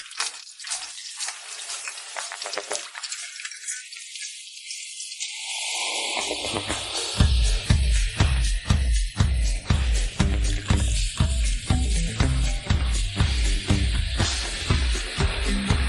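A cook tosses food in a wok over high heat, the steady frying sizzle broken by a regular, loud series of scraping, clattering beats from the repeated flipping.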